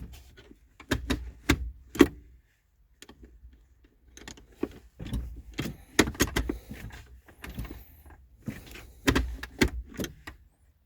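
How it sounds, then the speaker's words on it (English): Repeated clicks and clunks from the ignition barrel of a Holden Captiva as the key is turned and released, a series of sharp close mechanical snaps and rattles separated by short pauses, with key jangling between them. "you can hear that little clunk as the key releases in the ignition"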